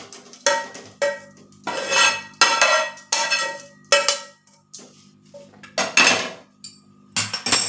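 Besan being transferred into a metal vessel: a series of sharp metallic clinks and scrapes from a spoon against the pot, irregular and close, with brief pauses between strokes.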